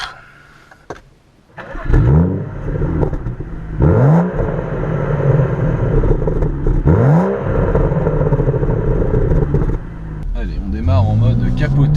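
A BMW M235i cabriolet with a turbo straight-six fires up and is driven hard, its engine rising through several loud rev sweeps and gear changes, heard close from inside the car.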